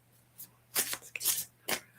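Tarot cards shuffled by hand in a few short riffling bursts, each quick and crisp, with brief pauses between and a faint low hum underneath.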